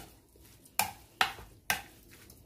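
Beef slices being mixed with salt and black pepper in a bowl, heard as three sharp scraping knocks about half a second apart over faint background noise, with no talking.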